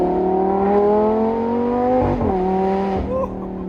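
Lamborghini Gallardo Performante sports car accelerates hard out of a turn on a twisty road, its engine revving high and loud up close, then dropping in pitch at a gear change before climbing again.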